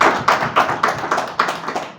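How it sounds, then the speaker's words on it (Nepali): Audience clapping to welcome a guest in a class gathering, a steady run of about eight distinct claps in even rhythm, close and moderately loud. "उहाँलाई ताली बजाएर स्वागत गरौँ।"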